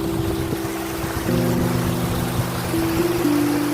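A steady, close rush of water falls down the rocks of the Raikal waterfall near Warangal after rain, with a constant low hum running beneath it and no talking.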